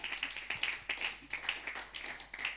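A church congregation at an Easter service in Bingerville claps in a steady, rhythmic beat to acclaim the Lord, moderately close and fairly quiet, with no talk over it.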